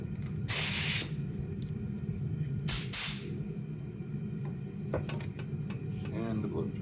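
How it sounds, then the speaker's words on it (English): Two sharp, close bursts of compressed air spray hiss out, one longer and one shorter, over a constant low roar of a furnace heating aluminum bronze for casting, with faint clicks and mechanical sounds between. "My compressed air."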